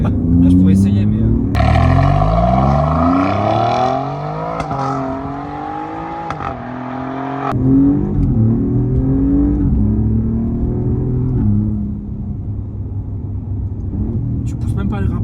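Alfa Romeo Giulia Quadrifoglio QV, 510 hp, rear-wheel drive, accelerating hard from inside the cabin, the engine note climbing in pitch through repeated gear pulls with sharp shift breaks, while occupants chat over it.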